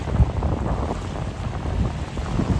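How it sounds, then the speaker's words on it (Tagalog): Strong wind roars steadily across the microphone outdoors at Dolomite Beach, a dense low rumble with faint surf-like wash and no talking. "malakas yung hangin"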